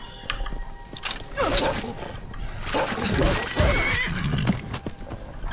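A horse whinnies loudly and its hooves clatter in the video game Skyrim, amid thumps and combat noises during a wild animal attack, with someone talking over it.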